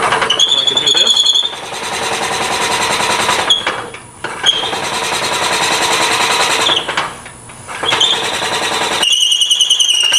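A drill bit bores into a tool handle spinning on a lathe, giving a loud, continuous grinding whir with a high squeal, broken by two brief pauses before it resumes.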